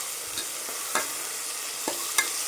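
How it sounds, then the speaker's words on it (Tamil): Onions sauté in hot oil in a pan for tomato rice, a steady close sizzle broken by a few light clicks of a spoon stirring. "இவ்வளோதாங்க வெங்காயம் வதங்கிடுச்சு"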